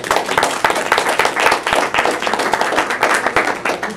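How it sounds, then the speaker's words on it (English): Audience applause for Triangle Ablevision, a dense, steady burst of clapping hands from a nearby crowd that fills the whole stretch without talk. "Let's give them a round of applause"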